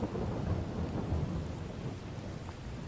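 Heavy rain pours steadily with rumbling thunder on a farm, a dense, loud continuous wash with no voices.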